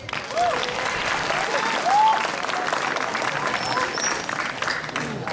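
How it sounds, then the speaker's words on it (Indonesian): Children at a Friday morning religious gathering applauding together, a dense continuous patter of many small hands clapping, fairly even in loudness, with a few faint voices rising above it. "tepuk tangan dulu dong."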